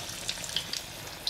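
Methi vada frying in hot oil: a steady, close sizzle with small scattered pops throughout the brief moment.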